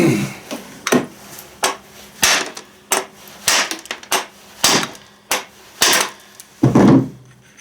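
A hammer strikes a Stihl TS400 saw part to split it open during a seal and bearing rebuild, with about a dozen sharp, loud metallic blows at an uneven pace and a heavier final hit.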